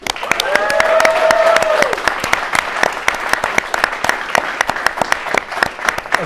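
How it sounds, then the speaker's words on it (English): Applause from a crowd at a game reveal event for Trials of Osiris, loud dense clapping that swells and then holds steady, with a voice speaking over it near the start. "Let's have a final round of applause for our game-winning team today"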